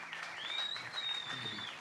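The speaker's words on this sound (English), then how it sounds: "Thunderous applause" An audience applauds steadily at a live showcase contest, a dense wash of claps with a thin whistle-like tone riding over it, continuous and moderately loud throughout.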